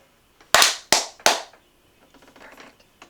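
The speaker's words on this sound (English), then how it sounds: "Should we clap?" Three sharp, loud hand claps in quick succession from a couple of people at home, each ringing briefly, followed by quiet shuffling and faint movement noise.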